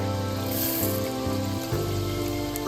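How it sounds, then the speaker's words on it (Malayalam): Mustard seeds crackle and spit in coconut oil heated over medium flame in a pan, a steady, dense, close-up sizzle with no talk. "വെറുതെ അങ്ങോട്ട് പൊട്ടട്ടെ കേട്ടോ."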